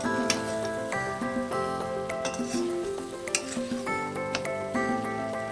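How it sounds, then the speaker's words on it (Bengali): Boiled cauliflower being stirred into spice paste in a pan for a Bengali whole-cauliflower dish: steady sizzling with scraping spoon strokes and light clinks against the pan, under a continuous tonal background of music. "এবার কপিটা দিয়ে দেবো সেদ্ধ কপিটাকে দিয়ে মশলাটার সঙ্গে একটু নাড়াচাড়া করে নেবো"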